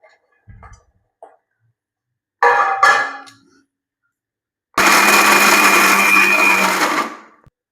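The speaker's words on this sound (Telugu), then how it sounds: "పచ్చి కొబ్బరిను మిక్సీకి వేసుకుందాం" Mixer grinder crushing fresh raw coconut to a coarse texture, a short loud whirring burst, a pause with small knocks, then a longer sustained grinding run that cuts off.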